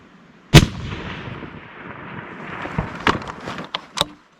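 A single loud, close rifle shot cracks out during a public-land mule deer hunt in Idaho, followed by a rolling rumble and a few smaller thumps and clicks before fading out.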